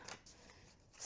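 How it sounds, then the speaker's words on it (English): A tarot deck with a matte finish is shuffled by hand, giving a short soft burst of card riffling and sliding, quiet and close, with no talking. "I'm just grabbing the front and back of the cards and then putting them down"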